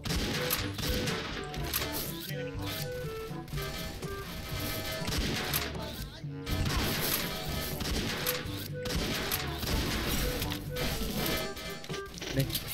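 Machine-gun fire from an AK rifle in the shooter game XSHOT, with dense rapid bursts running nearly continuously under game music and effects, loud and close.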